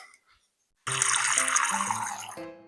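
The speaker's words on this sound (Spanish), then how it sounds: "vamos a hacer nuestro tecito. Agua." Water from a kitchen tap poured for making tea, a sudden steady splashing stream starting after a brief quiet pause and running to the end.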